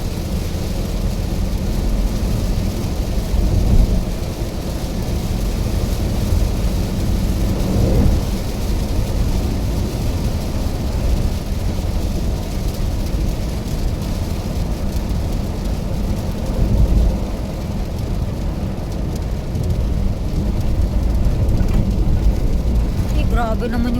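Steady heavy rain hisses throughout with low rumbles of thunder rolling underneath, a continuous dense wash of storm noise.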